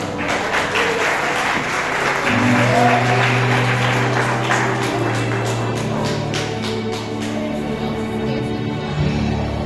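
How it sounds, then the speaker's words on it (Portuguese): Applause from a church congregation at a communion service, a broad sustained wash of clapping that continues for several seconds while a low organ or keyboard tone holds underneath and steady chords play along. "Vamos receber as servas de Deus com palmas para Jesus."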